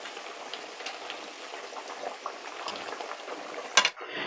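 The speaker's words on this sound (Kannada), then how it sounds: "ಈ ಫ್ರೈ ಮಾಡಬೇಕಂದ್ರೆ ಮೀಡಿಯಮ್ ಫ್ಲೇಮಲ್ಲೇ ಇದನ್ನು ಹುರಿಬೇಕಾಗತ್ತೆ" Maddur vada, a thick lentil fritter from Karnataka, deep frying over a medium flame in hot oil, with a steady bubbling hiss, faint scattered pops and a brief clatter near the end.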